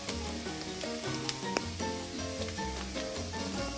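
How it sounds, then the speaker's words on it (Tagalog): Chicken sizzles in a pan with sautéed onion, garlic and ginger for tinola, a steady close frying hiss with light stirring and tonal background sounds throughout. "Saute your chicken alongside with your sauteed onion, garlic, and ginger"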